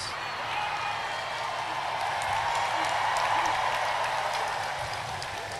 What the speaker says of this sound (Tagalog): Palakpak ng lahat.